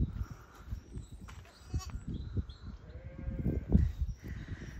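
Lambs and ewes bleat in a farm lambing shed on a gloomy day, short overlapping calls near and far over a busy background of shuffling and rustling, with a louder bleat toward the end.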